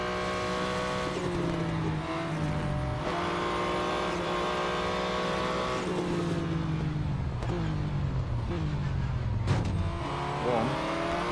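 Porsche 911 GT1 Strassenversion race cars in a racing video game, engines droning loudly and continuously with rising and falling revs as cars shift and accelerate, brief tire squeals, no talking.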